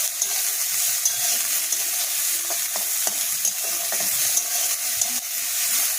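Onion stir-fries with fried garlic in a pan, producing a steady soft sizzle with occasional spatula scrapes and clicks, close up and without speech.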